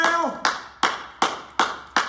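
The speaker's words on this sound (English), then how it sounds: "Right where you clap your hands." A church congregation claps hands in unison during a worship service, five sharp, evenly spaced loud claps in a steady rhythm, preceded by a brief voice at the start.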